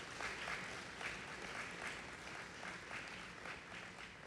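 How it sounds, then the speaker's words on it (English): An audience at a scholars' graduation ceremony gives a round of applause, faint, continuous clapping with soft pulses, fairly distant and low in level. "So please give Delaney a round of applause"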